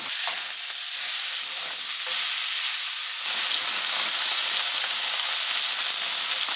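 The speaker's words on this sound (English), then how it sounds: "we're making smash burgers" Smash burgers frying on a griddle at an island camp, a steady broadband sizzle and hiss that runs unbroken from start to finish, close and fairly loud, with no voices.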